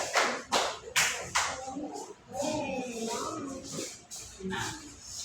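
Third-grade schoolchildren in a classroom give a few bursts of clapping for a discussion group, sharp and separate at first, then fading beneath a voice talking.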